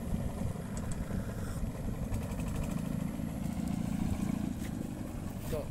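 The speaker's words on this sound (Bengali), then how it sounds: "ওই যে একটি ট্রলার ছেড়ে গেল এইমাত্র।" A trawler boat engine pulls away on the Meghna river at the edge of Bausia, a steady low rumbling drone that runs without a break.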